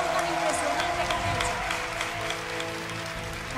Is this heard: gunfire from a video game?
no